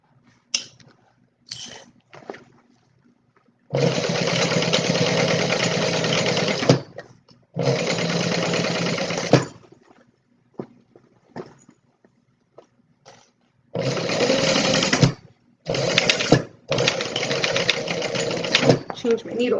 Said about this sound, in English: Do a little back stitch on that side seam too.